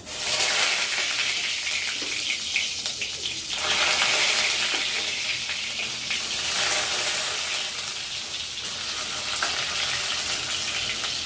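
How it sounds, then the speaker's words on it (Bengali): Boiled potato pieces seasoned with salt and turmeric fry in hot oil for chicken biryani, giving a loud continuous sizzle that rises and falls in waves, close and alone without speech. "সে আলুটা আমি এবারে ভেজে নেব। আলুটা ফ্রাই করে নেব।"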